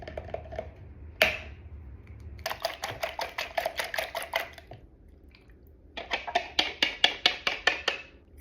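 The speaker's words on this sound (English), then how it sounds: "Lightly beat 3 large eggs and then add it to that mixture." Three large eggs being beaten into a sugar mixture for banana bread, with two bursts of rapid clicking whisk strokes against the bowl separated by a brief pause.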